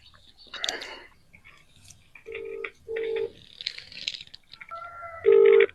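A series of short telephone keypad tones beep in irregular succession, with faint rustling and a soft voice murmuring between them.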